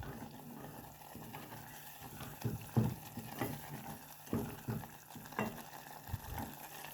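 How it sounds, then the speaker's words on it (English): Pilipili chili sauce simmers in a pot with soft bubbling and gentle sizzling, with intermittent spoon scrapes and stirring clinks at low volume and no talk. "So mnaona venye inatokota, the way it's simmering."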